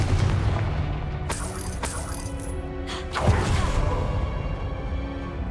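Several booming spell blasts from the Confringo curse in the Hogwarts Legacy video game, sharp bursts crackling outward with shattering debris, a few hits spaced through the moment over low rumbling game ambience.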